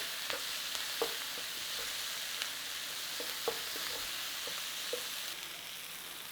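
Potatoes frying in a pan with onions coated in a spice mix, a steady broadband sizzle over a steady flame, with scattered faint clicks and stirring knocks throughout.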